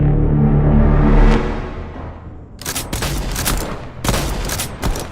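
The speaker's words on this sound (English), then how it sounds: "Keep firing, Conwell." Rapid bursts of gunfire in a Minecraft game battle, sharp cracking volleys firing in quick clusters after a swelling, fading whoosh, loud and close with no talking.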